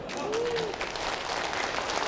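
A lecture audience at the Seongnam mayor's talk in Suncheon breaks into applause, a steady wash of clapping with a voice heard briefly over it.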